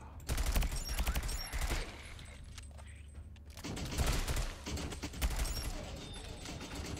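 Automated sentry guns in the first-person tower defense game Sentry fire rapid, rattling bursts in two loud stretches with a quieter lull between, over faint background game noise.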